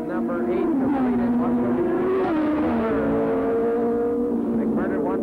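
Superbike motorcycles, including Kawasaki, Suzuki and Honda machines, racing on a track in a Pro Superbike final. Their engine whine drones loud and continuous throughout, under an announcer's steady commentary.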